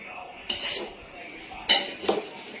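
A metal spoon clinks and scrapes against a cooking pot while spices with salt and turmeric are stirred together, a few light knocks spread over a couple of seconds under a quiet background.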